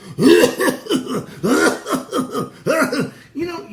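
A man coughs again and again in harsh, rhythmic bursts, each fit followed by a short pause before the next round of hacking.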